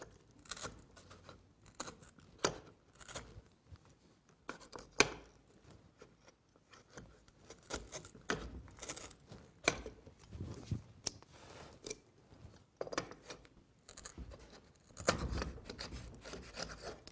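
Router plane smoothing the bottom of a cut in wood, heard as intermittent short scraping and shaving strokes at close range, fairly quiet, with pauses between passes and no talking.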